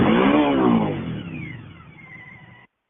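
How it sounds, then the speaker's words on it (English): A motorcycle engine revs hard and loud up close, then winds down in a long falling whine until it cuts off abruptly into silence. "I'm going to have to take my motorcycle."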